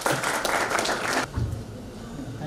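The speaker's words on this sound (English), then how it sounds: "So can we give a great round of applause," Audience applause at a global sustainability summit in New Delhi, a short burst of clapping from the crowd that stops abruptly about halfway, followed by quieter room noise.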